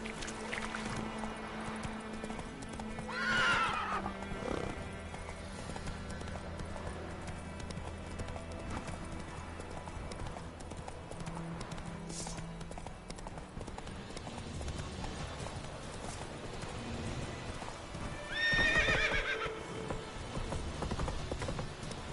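Hooves of the horse Roach clip-clop steadily through The Witcher 3 video game, with two brief whinny-like bursts near the start and near the end over a busy game soundscape.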